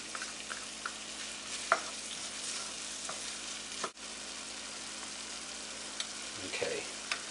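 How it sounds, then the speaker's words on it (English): Onions, celery, garlic and scallions sizzling in butter in a pan, with a soft steady frying hiss and occasional light crackles and utensil taps, no talking. "our onions and celery and garlic are cooking away here"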